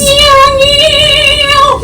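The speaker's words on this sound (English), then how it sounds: "Our first sound is a train whistle, which sounds like this." A train whistle on a Polar Express ride blows one sustained, chord-like tone, loud and close, holding steady for nearly two seconds with a slight waver.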